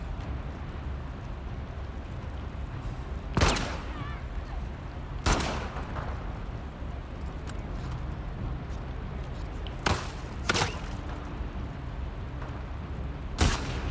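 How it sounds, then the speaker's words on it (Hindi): Gunshots in The Last of Us Part II, set in Seattle: four or five sharp, isolated reports spaced several seconds apart over a steady low rumble of ambient game noise. "शॉट"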